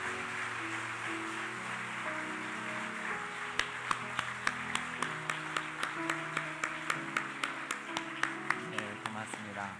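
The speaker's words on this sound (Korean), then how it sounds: "여러분 힘차게 우리 아이들을 위해서 우리 박수합시다" A church congregation claps for the children at a Sunday service, with sharp claps settling into a steady rhythmic beat after a few seconds, under a man's speech and low sustained tones.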